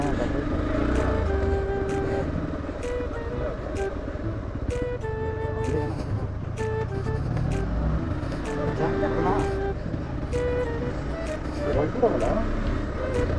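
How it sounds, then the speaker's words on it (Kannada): A motorcycle approaches along an off-road trail near Dibbagiri, its engine a steady rumble mixed with broadband road-and-wind noise throughout, while people talk nearby. "ಓ ಬೈಕ್ ಬರ್ತದ ಅಂಕ."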